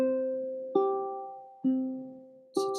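A ukulele played slowly with the alternating thumb pendulum technique: three clear plucked chords ringing out and fading, evenly spaced about a second apart, with a fourth, brighter strum at the end, quiet and alone.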